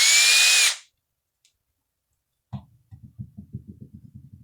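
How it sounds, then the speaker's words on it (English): A power drill bores pilot holes for screws in wood, giving a brief loud whine at the start, then after a silent gap a knock and a run of short rhythmic low buzzing bursts close by. "I'm going to pilot a couple of holes here"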